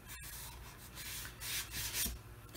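Sandpaper rubbing along the edge of a mahogany veneer on a card table under repair, a soft, close, continuous scratchy rasp with gentle swells in strength.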